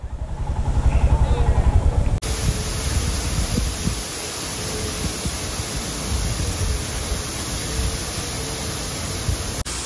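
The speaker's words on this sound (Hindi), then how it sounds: "तो एज प्रॉमिस्ड ऑक्टोपस वाटरफॉल के पास में रुके हैं हम लोग।" Rushing water at the Octopus Waterfall in Manang, a steady loud broadband roar starting suddenly after a couple of seconds of quieter engine-like rumble and continuing unbroken to the end.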